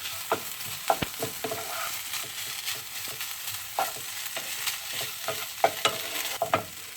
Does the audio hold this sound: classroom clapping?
no